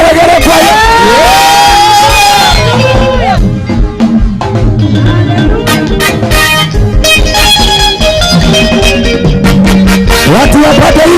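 A large crowd at an outdoor conference on primary school grounds ululates with rising, wavering trills and cheers, loud and close, over amplified music with a shouting voice.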